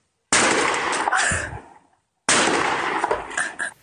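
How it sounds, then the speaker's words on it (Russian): Two loud, sharp bursts of gunfire about two seconds apart, each ringing out with a long noisy tail that fades before the next. "Выстрел. Через секунду еще один."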